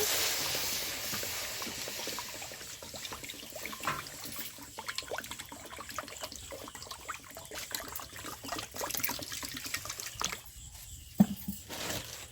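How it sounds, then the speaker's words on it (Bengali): Water is poured into a pot to boil chow mein for a masala chow mein recipe, giving a continuous close trickling and splashing with small bubbling bursts and no talking. "এখানে আমি চাউমিনটা সেদ্ধর জন্য জল দিয়ে দেব"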